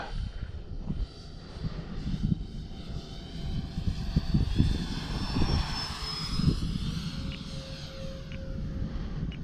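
Freewing AL-37 RC airliner making a flying pass, its electric ducted-fan whine rising and sweeping in pitch as it goes by, steady and moderately near over outdoor background noise.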